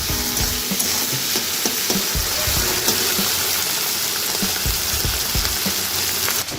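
Spice masala with chopped tomato and salt being fried in a pan for a home-style tadka, a loud, dense, continuous sizzle with scattered knocks and scrapes of stirring.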